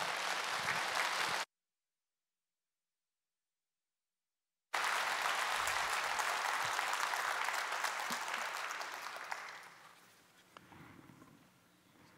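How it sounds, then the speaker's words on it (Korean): Audience applause welcoming a pastor forward at a Korean church service, steady clapping that stops abruptly, returns and then fades gradually toward the end. "우리 김혜신 목사님 앞으로 나오실 때 크게 환영의 박수로 앞으로 모시도록 하겠습니다"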